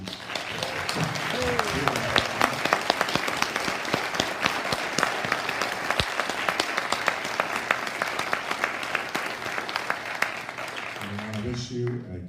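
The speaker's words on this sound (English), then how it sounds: "I would like us to give a big round of applause to the candidates" Sustained audience applause at the close of a 2018 mayoral candidates' forum, a dense, steady wash of many hands clapping for the candidates, with voices audible briefly at the start and end.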